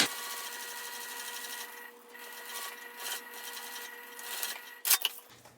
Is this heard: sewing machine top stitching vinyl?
yes